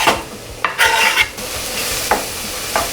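Chopped onions and garlic sizzle in hot oil in a pan, a close steady hiss broken by a few sharp scraping stirs.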